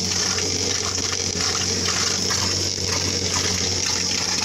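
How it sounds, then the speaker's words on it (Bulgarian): Water pours and splashes continuously into a well in the village of Sarnegor with a steady rushing hiss, close by and unbroken, with no voices. "Какво количество вода пада в кладенеца."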